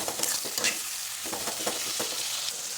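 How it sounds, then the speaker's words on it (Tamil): Chopped tomatoes frying with onions in a pan, stirred steadily, giving a continuous close sizzle with repeated scraping strokes of the spoon throughout. "நம்ம கட் பண்ணி வச்ச தக்காளி வந்து ஆட் பண்ணிக்கலாம் நல்லா வெங்காயத்து கூட நல்லா சேரணும்"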